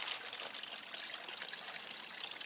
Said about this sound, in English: runoff, water pouring out of the pipe